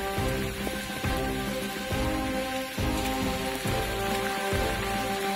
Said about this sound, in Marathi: शेवटच्या समारोपाला बेकार पाऊस चालू झालेला आहे.